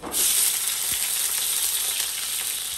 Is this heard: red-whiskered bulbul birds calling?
no